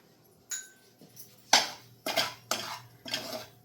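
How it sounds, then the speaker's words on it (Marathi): Semolina (rava) dry-roasting in a kadhai on a gas flame, heard as a series of separate scraping, clattering strokes of a spoon against the pan at a roughly steady half-second rhythm, otherwise quiet. "आता मी रवा भाजते आधी हा रवा ना आपण आधी फक्त कोरडाच भाजून घेऊ"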